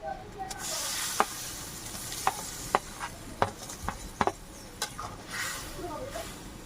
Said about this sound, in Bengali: ঝোলটা ফুটে গেছে, ভেজে রাখা মাছগুলো দিয়ে দেবো